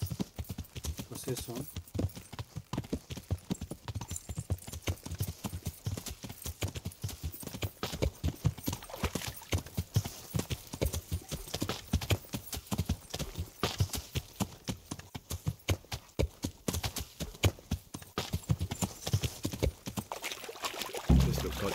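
A horse's hooves clip-clop in a fast, steady rhythm across the whole stretch in the video game Kingdom Come: Deliverance, loud and close, with someone speaking briefly over them.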